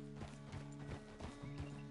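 Horse hooves clip-clopping at a walk in Red Dead Redemption 2, a steady run of evenly spaced hoof strikes, fairly close, with low background hum and no talk.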